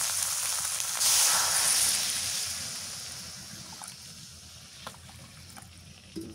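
Water poured into goat meat sizzling in a pan over a village clay stove sets off a loud sizzling burst that tapers into a softer, steady simmering hiss with a few faint clinks.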